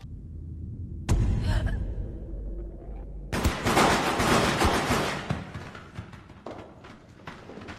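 A gun fires in the 2017 horror film Trauma: a sudden loud close bang, followed a couple of seconds later by a dense, roaring burst of noise that lingers and then slowly thins out. No one speaks.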